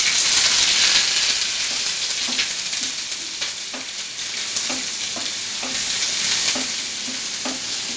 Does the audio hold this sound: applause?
no